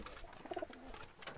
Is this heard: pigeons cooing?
yes